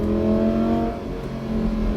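A Lamborghini engine revs hard at about 5,000 RPM with a loud, steady roar up close, then eases off into a rougher, uneven burble as it decelerates.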